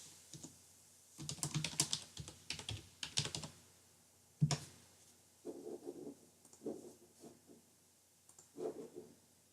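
Someone typing on a computer keyboard to log in to an account, with quick bursts of key clicks followed by slower scattered taps, close and quiet, with no talk.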